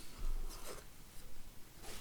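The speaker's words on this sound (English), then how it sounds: "First thing I'm going to do is cut on the straight line." Big scissors cut fabric along a straight line, making faint, quiet snips at a slow, uneven pace over soft rustling, with no talking.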